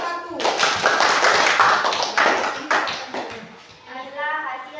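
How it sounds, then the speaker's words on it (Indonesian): Students in a classroom applaud a presenting group with a burst of close, busy clapping mixed with young voices, which fades after a few seconds into talking. "Oke, kasih tepuk tangan buat kelompok 1."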